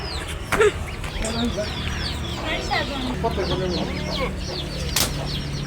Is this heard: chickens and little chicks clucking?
yes